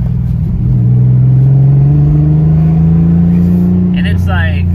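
Engine of a Rauh-Welt Begriff (RWB) Porsche revving under acceleration and stumbling: a loud, sustained drone climbs steadily in pitch from inside the car, with a brief break near the end.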